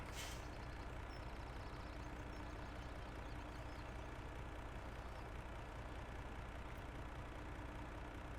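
Kipper trailer unloading in Farming Simulator 17, a steady droning truck engine idling with a constant mechanical rumble and a sharp air-brake hiss at the start.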